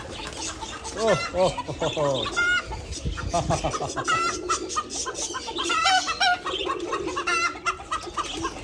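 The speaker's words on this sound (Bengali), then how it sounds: "প্রচুর পাখি, এত কিচির মিচির। হ্যাঁ এই যে কত পাখি, কবুতর।" Many birds, including pigeons, call and chirp busily around a resort, a dense overlapping chorus close by, with people talking intermittently.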